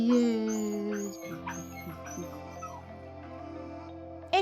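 A collie poodle cross dog whimpers and yips in a long series of high, wavering whines and short squeaky cries, close and clear, ending with a sharp louder yelp.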